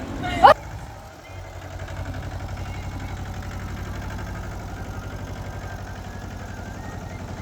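A tractor engine chugs steadily at a low, even idle while reversing, following one sharp knock at the start.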